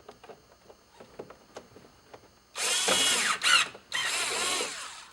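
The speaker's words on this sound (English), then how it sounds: "Put our T20 Torx screws back in." Power driver spinning T20 Torx screws into a VW GTI Mk5 door panel, two close whirring bursts of about a second each, preceded by quieter clicks and handling taps.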